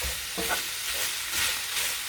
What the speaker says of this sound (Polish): I mieszamy to. Mieszamy to przez jakiś czas